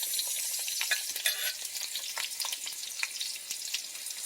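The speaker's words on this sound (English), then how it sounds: "we're going to add in our mushrooms along with our bok choy, scallion white" Mushrooms, bok choy and scallion whites stir-fry in olive oil in a wok, giving a bright, steady hiss with small scattered scrapes and crackles, close and continuous.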